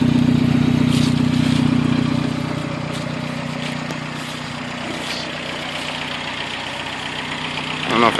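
A 1986 Toyota SR5 pickup with a turbocharged 22RET engine idles close by, a steady loud rumble that dips slightly midway, with a voice talking over it.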